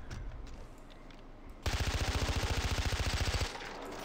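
Machine gun fire in the video game Far Cry 4, one sustained rapid burst of close, loud shots lasting about two seconds over a steady game background.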